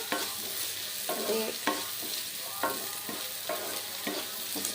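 Brinjal curry frying in a pan while being stirred, a continuous sizzle broken by regular scraping strokes of a spoon roughly every half second, close and clear.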